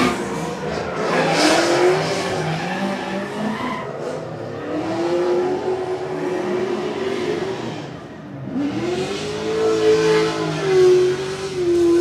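Drift cars run tandem at a live event in Mexico, engines revving and rising in pitch as tires squeal and skid in long sweeps, loud and fairly close, with the roar dipping briefly before surging again.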